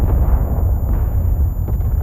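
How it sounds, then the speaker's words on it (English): The battleship Roma's number 2 magazine detonates after a Fritz X guided bomb penetrates several decks, a loud, dense, low explosive roar that rumbles on without a break. "The second bomb reached several decks, causing her number 2 magazine to detonate."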